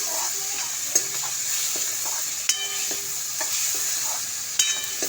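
Onions and tomatoes stirred and fried in a pan, a steady close sizzle broken by a few sharp spoon clinks against the metal and scraping strokes, no voices.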